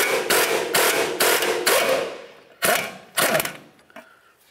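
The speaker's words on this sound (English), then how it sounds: "we're just gonna take a wrench on this side and a socket on that side and remove both of these nuts" Wrench and 22 mm socket working the knuckle nuts on a 2007-2011 Toyota Camry during a wheel bearing and hub replacement: a close, loud run of rapid ratcheting bursts, then a pause and two or three sharper clanking strokes, with no talk.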